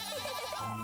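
A one-eyed, scarred goat in Little Goody Two Shoes bleats in a single short, wavering cry, close and fairly quiet, with no talking over it.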